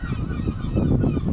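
An agitated goose gives a harsh, honking cat-cat call, a dense run of rough repeated notes lasting just over a second, close and loud.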